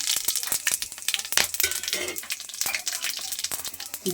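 Whole cardamom, cloves and cinnamon sizzle in a pan over caramelised sugar for a country chicken curry, a close crackling fry with sharp little pops and scrapes throughout.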